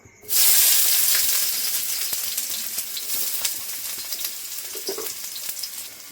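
Chopped onion dropped into hot oil for a bread snack, a sudden loud sizzle that bursts up and then settles into a steady crackling fry, with a few light clinks of a utensil.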